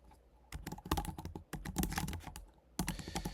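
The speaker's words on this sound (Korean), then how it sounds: "한글로 써볼게요" Someone types a Korean-language prompt on a computer keyboard in close, rapid bursts of clicking keystrokes, broken by short pauses, with no speech.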